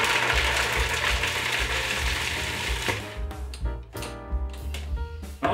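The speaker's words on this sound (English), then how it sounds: "It starts off with some garlic, and we're gonna whiz that up." Food processor whizzing up garlic for a gluten-free meat marinade, a loud steady mechanical whir with rattling blades that cuts out and stutters in short pulses toward the end.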